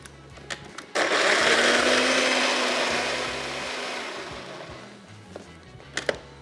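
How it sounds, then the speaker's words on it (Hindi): An electric blender whirring through yogurt chutney in a kitchen, switching on abruptly with a loud steady whine that holds for a few seconds, then slowly fades before a few clunks and clatters at the end. "लेकिन मैं इसको एक दफ़ा ब्लेंड कर लेता हूँ।"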